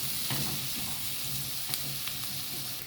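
Meat and onions fry in a pan, a steady soft sizzle with faint crackles and occasional sharp pops, fairly quiet and close, with no talking.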